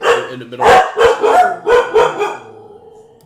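Several dogs bark in a quick series of loud, close barks, about five bursts in under two seconds, then fade to quiet with some room noise.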